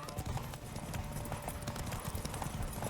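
Hooves of the horse Roach gallop in The Witcher 3, a rapid, close, rhythmic clip-clop that drives on without pause over a busy game backdrop.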